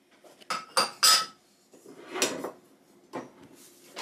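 Cuttlefish mixed with salt and spices in a bowl, a few sharp metal spoon clinks against the bowl followed by softer scraping and stirring, close and intermittent.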